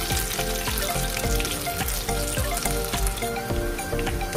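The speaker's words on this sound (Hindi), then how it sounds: "जब ये तेल गर्म हो जाए तो इसमें मैंने वो मिक्स किया हुआ बनाना डाल रही हूँ" Banana mixture frying in hot mustard oil, giving a steady, dense sizzle and crackle with scattered pops throughout, close and fairly loud, with no voices.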